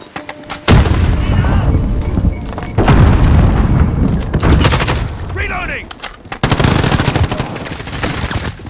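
Gunfire in Call of Duty Modern Warfare multiplayer: loud bursts of automatic weapon fire and booming shots in repeated volleys, with short lulls between them.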